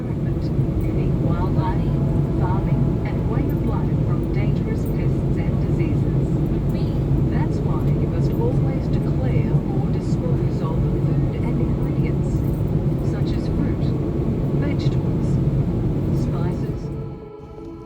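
Steady, loud cabin roar aboard a Qantas A330 economy class descending into Sydney, a broad continuous rumble with faint announcements or voices beneath it, fading slightly at the very end.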